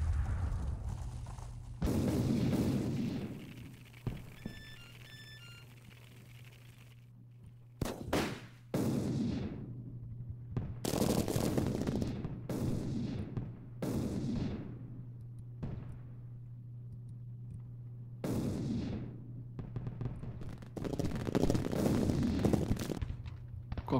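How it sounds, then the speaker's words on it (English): Artillery firing line in Grand Tactician: The Civil War at the Battle of Bull Run, with repeated cannon blasts and crackling volleys bursting out over a low steady rumble, some shots close and loud, others spaced irregularly. "Quite a nice firing line of artillery set up."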